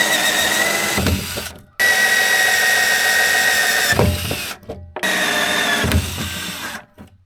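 A power drill with a hole saw whines loudly in three long bursts separated by short pauses, the pitch dipping as it bites and spins down between runs.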